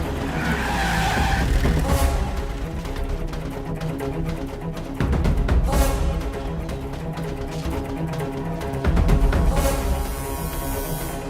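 A car's tires squeal in a long skid as it brakes to a stop during a police chase, the shriek swelling in waves over a rumbling engine with no speech.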